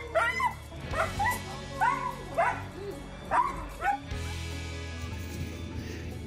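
A dog gives a run of excited yips and short barks with whimpering whines inside a car, then the car's steady hum takes over.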